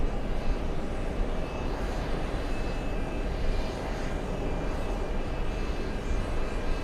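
A large airliner, such as a Korean A380 or an IL-96, rumbles at an airport in a steady, broad engine roar from a moderate distance that holds evenly throughout.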